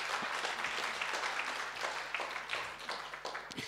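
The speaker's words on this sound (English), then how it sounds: "So give them a round of applause." A church congregation applauds with steady, even clapping at moderate distance, holding through the whole stretch with a few sharper, closer claps near the end.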